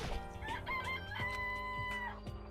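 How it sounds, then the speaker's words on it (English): A chicken in the video game Danganronpa gives a loud, close run of throaty clucking calls with no talk over it. "We can investigate each chicken. It's a chicken."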